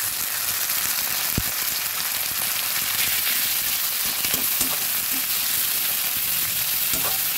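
Onion paste and chopped onions fry together in a pan, a loud, close, unbroken sizzle with scattered pops and a few soft stirring knocks.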